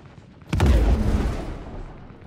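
A single heavy gunfire blast in the space game Star Citizen, a deep booming impact that rises sharply and then rumbles and fades slowly.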